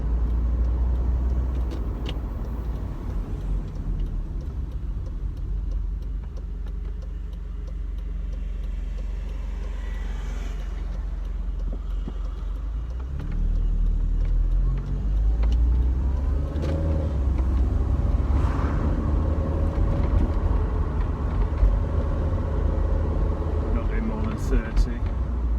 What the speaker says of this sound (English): So I'm not going very fast, I'm just driving around where I live.